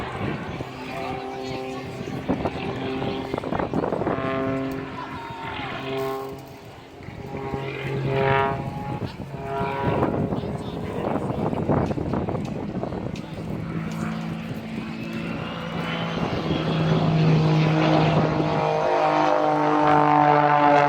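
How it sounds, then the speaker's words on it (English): A propeller aircraft performing at the Duxford airshow drones and whines with a jet-like engine tone, swelling and fading as it passes, while an announcer talks over it. "That aircraft should not be making jet noises."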